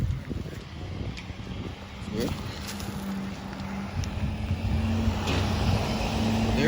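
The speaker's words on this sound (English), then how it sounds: "There goes garbage truck 27." A garbage truck collecting yard waste rumbles steadily as it pulls away down a residential street, its low engine drone filling the scene and growing slightly louder toward the end.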